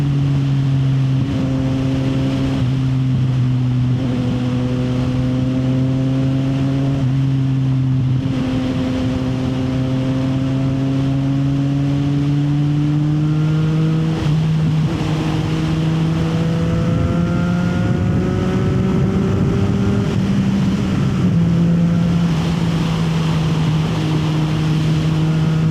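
A CFMoto 675 SR motorcycle on a morning ride gives a loud, steady engine drone that holds close throughout. Its pitch sags and rises with throttle changes, and there is no talking over it.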